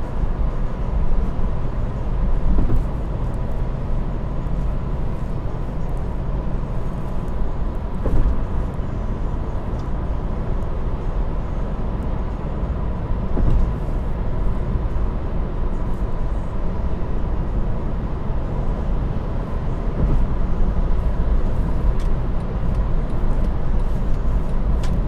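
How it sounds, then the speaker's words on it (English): A car cruises at 80 km/h at night on the road to Changi Airport, its engine and tyre roar forming a steady, loud low rumble that holds even across the whole stretch, with no voices. "I'm driving at 80 kilometers an hour"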